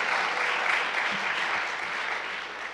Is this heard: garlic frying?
no